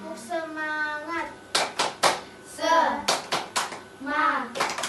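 Schoolchildren in a primary class chanting and clapping the rhythmic 'tepuk semangat' cheer, sung phrases broken by sharp, distinct clap bursts in a patterned beat, voices and hands close and lively.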